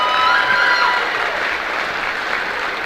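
Applause from a crowd at a girls high school basketball game fills the gym, a dense, sustained wash of clapping that slowly eases off, with a brief whistle or cheer early on.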